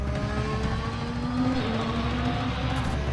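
Formula One car driving on a race circuit, a loud high-pitched engine whine that rises steadily in pitch as it accelerates, heard alone and close.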